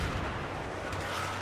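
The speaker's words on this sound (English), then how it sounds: "they are taking a lot of hits from the tank" Tank cannon fire and shell hits in an 8v8 competitive video game match on the Peak map, a dense rumbling barrage of booms and impacts heard steadily throughout, loud and continuous with no clear gaps.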